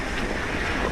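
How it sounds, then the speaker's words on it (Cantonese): Strong wind buffeting a microphone while descending a mountain, a dense, continuous low rumble and roar that fills the whole moment, loud and close with no voice. "而家落山係好大風啊"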